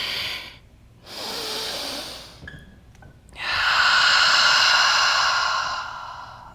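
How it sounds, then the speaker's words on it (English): Ujjayi yoga breathing during a vinyasa flow: slow, audible hissing breaths close to the microphone, a shorter inhale, a pause, then a longer, louder ocean-like exhale, with no talking. "Ujjayi breathing."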